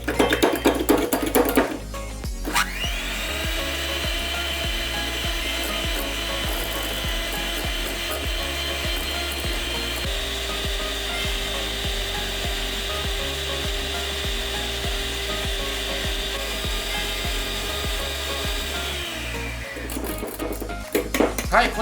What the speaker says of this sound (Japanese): これをミキサーを使って泡立てたいと思います。